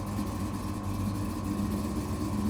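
A 1971 Chevrolet Chevelle engine as the car pulls away, a steady low rumbling drone heard from inside, even and continuous with no clear revving.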